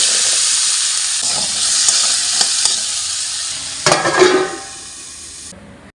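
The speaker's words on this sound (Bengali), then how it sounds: "উচ্ছেটা কাটা ছিল সেখানে একটু নুন হলুদ মাখিয়ে ওই তেলের মধ্যে দিয়ে দিচ্ছি" Bitter gourd coated with salt and turmeric frying in hot oil in a pan, a steady loud sizzle with hissing steam, a few sharp crackles and a burst of spattering near the end before it fades.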